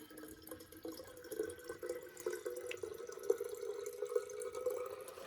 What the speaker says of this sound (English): When this jug fills up, I'll see what it is coming out of the tap.